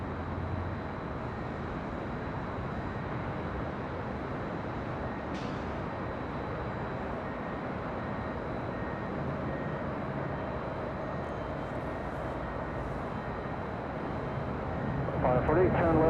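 An airliner taking off from runway 24 left at LAX, heard from a high hotel rooftop as a steady, broad, distant engine roar that swells slightly near the end, with voices talking over it.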